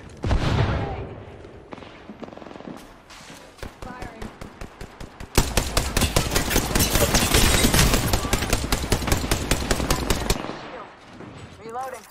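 Rapid automatic gunfire in Apex Legends, a dense burst of repeated shots loud and close, building from scattered rounds into sustained fire with game effects and some voice beneath.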